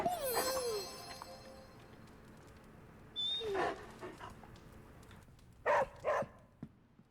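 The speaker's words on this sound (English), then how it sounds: "Who's a good puppy?" Charlie, a dog in the Midnight Suns video game, gives a few short whines and yips in separate bursts with quiet stretches between, set against soft game ambience.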